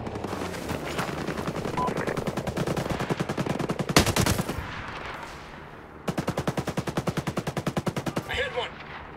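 Gunfire rattles in the video game Ghost Recon Breakpoint: long, loud bursts of rapid automatic fire, broken by a single heavy blast and a short pause before another sustained volley.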